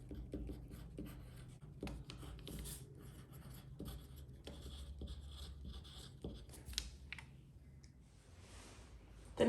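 Pen or pencil scratching across paper at close range, with soft strokes, taps and rubs recurring through the stretch, near and fairly quiet, no talking.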